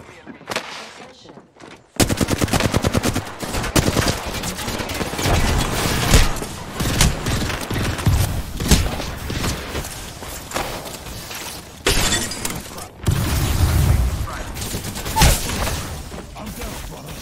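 Video game gunfire during a firefight, with dense bursts of rapid automatic shots and explosive cracks filling the clip, loud and continuous after a brief quieter start.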